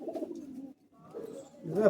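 Soft, low cooing from Madras pigeons, a few murmuring calls close by, with a brief pause midway before louder cooing at the end.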